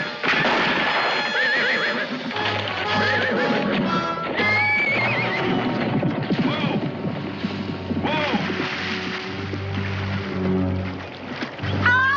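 A horse neighs and whinnies repeatedly in an outdoor Old West frontier setting, loud and close, with hoof clip-clops and other background commotion around it.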